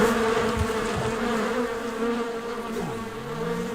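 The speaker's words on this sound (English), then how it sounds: "His bullish attempts to break open the hive continue to anger the bees." A loud, dense swarm of angry wild bees buzzes continuously close by as a bear tries to break open their hive, their drone rising and falling with a few individual insects passing near.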